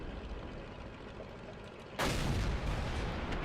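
A single heavy tank cannon blast in World of Tanks bursts out midway over a steady droning game background, loud and booming with a lingering rumble.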